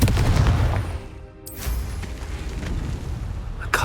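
A Confringo spell blast in Hogwarts Legacy, a loud, roaring burst of fiery explosion noise that dips briefly, then surges back with rumbling crackle and a sharp hit near the end.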